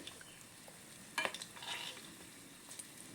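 Potato chaat bowls frying in hot oil as oil is spooned over them, a faint continuous sizzle with a burst of crackling and spoon clinks partway through.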